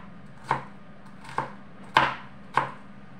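Four separate, crisp knife chops strike a cutting board as vegetables such as celery are cut, each a sharp close thud with short pauses between.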